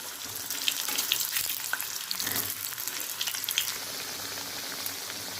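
Steady close sizzling of potatoes frying in hot oil in a pan, with occasional crackles and pops over a continuous hiss.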